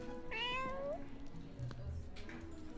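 A cat in the cozy game Songs of Glimmerwick meows when petted, one clear rising meow close up, followed by faint softer mews, with a bit of background music.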